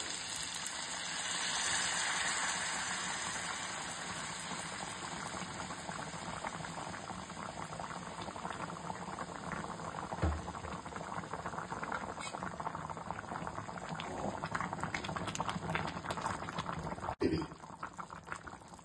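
Chicken curry with added hot water bubbles in a pot, a continuous soft gurgling boil with small pops and a faint background hum.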